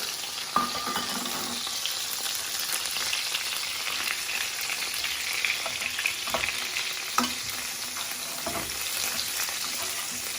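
Butter sizzling in a hot pan while basting stuffed calamari, a steady crackling fry with occasional sharper pops and spoon clinks, close and fairly quiet, no talk.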